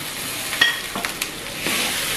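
Washed and drained flattened rice (chira) is stirred with spices in a pan, making a soft sizzle broken by a few sharp spatula scrapes and knocks, with no talking.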